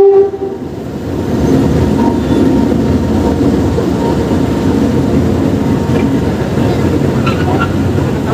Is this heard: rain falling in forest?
no